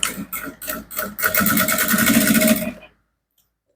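A sewing machine runs a top stitch across fabric, a few short stop-start bursts giving way to a longer steady run that cuts off sharply, leaving silence.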